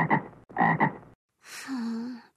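A cartoon frog in an animated Frog Prince story gives two short raspy croaks followed by a longer, higher warbling ribbit, each clear and close with silent gaps between.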